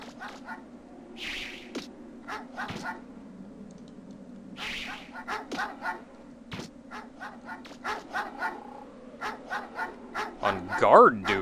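Dogs bark and yip in the Megaman Legends video game, a string of short sharp barks scattered over several seconds alongside game music and effects.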